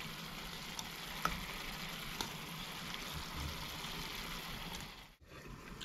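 Fried hilsa fish pieces sizzling in spiced curry oil in a pan, a steady close crackling fry with occasional stirring clinks, no talking.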